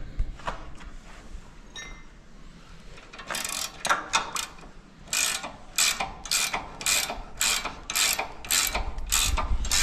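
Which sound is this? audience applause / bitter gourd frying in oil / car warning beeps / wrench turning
wrench turning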